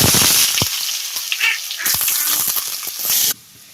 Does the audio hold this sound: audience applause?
no